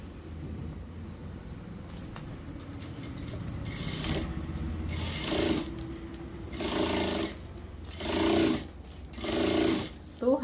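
A sewing machine runs a stitch along a blouse border in short bursts of rapid whirring, close by, as someone speaks over and between the runs.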